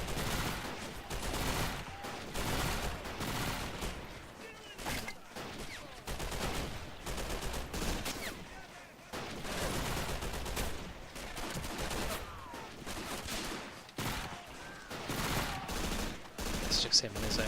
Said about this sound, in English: I think they've got a machine gunner in there somewhere. He's pretty protective, firing them as they come in.